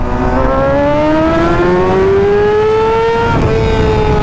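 Motorcycle engine droning steadily during a ride in Pangasinan, its pitch climbing smoothly under acceleration with loud, continuous wind rush over it.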